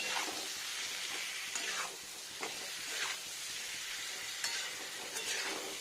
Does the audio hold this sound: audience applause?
no